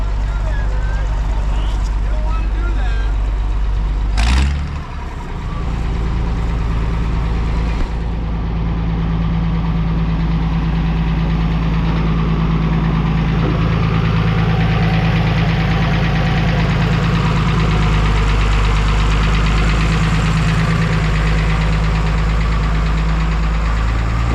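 A lineup of tractor engines at a farm show idle with a deep, steady rumble and knocking throb, loud and continuous, with a brief thump early on and faint voices nearby.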